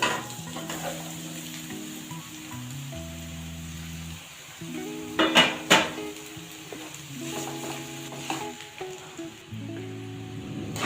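Mashed potatoes being stirred in a pan on the stove for a potato palya, with a steady low sizzle, scraping and a few louder clinks and knocks against the pan around the middle.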